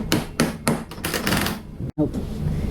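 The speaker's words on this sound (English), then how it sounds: "Alright, beat that with a hammer." A hammer beats a nut onto a steel part in a workshop, a quick series of sharp, close metallic knocks with a brief pause before more strikes resume.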